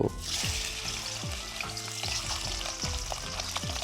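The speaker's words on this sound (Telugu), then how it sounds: "ఈ రొయ్యల్ని ముందుగా వేయించుకోవాలి. సో నూనె వేస్తున్నాను నేను." Prawns fry in hot oil in a pan with a loud, continuous sizzle and repeated stirring scrapes, close up and with no talking.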